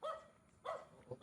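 A dog at a family home barks a few times, short yaps spaced apart at moderate distance and fairly faint, with no talk over them.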